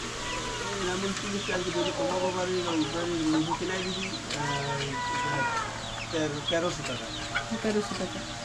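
Desi chickens cluck and chatter busily on a farm, many birds calling close by in overlapping bursts while people talk throughout.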